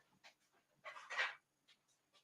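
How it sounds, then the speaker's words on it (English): Dog panting close by, quiet quick breaths in short bursts with a louder burst of huffing in the middle, then a few faint breaths trailing off. "Look at this dog."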